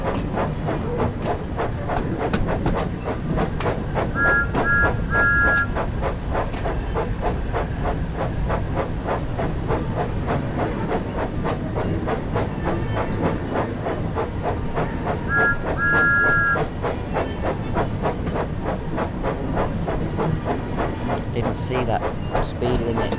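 Thomas the Tank Engine steam locomotive running in the game Train Sim World 5, a loud continuous steam hiss with rhythmic chuffing beats and brief whistle tones, while someone talks over it.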